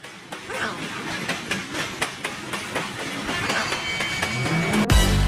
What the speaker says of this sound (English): Train, a common form of transportation.